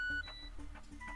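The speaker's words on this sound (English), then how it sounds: "This thing is beeping at me instantly after I start recording." An electronic device beeps right as recording starts, a steady high tone that cuts off, followed by faint repeated soft pulses over a low hum.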